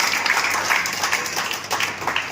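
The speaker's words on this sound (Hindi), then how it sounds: "मैं आप चाहता हूं कि अभिनंदन जोरदार तालियों के साथ करें" Steady applause from a crowd at a Lions Club event, dense and continuous clapping at moderate volume throughout, with no voices standing out.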